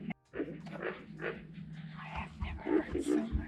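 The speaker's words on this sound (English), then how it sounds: "That's the sound of alligator love." Alligators in a Florida swamp bellow during mating season, a deep rumbling grunt rolling on steadily at moderate loudness, with some closer throaty bursts toward the end.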